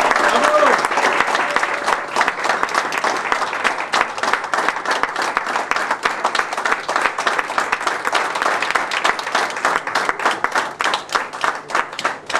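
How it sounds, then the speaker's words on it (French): Sustained audience applause at an award ceremony, dense rapid clapping from a crowd that stays steady for the full length, with a voice briefly heard at the start. "Applaudissements, s'il vous plaît."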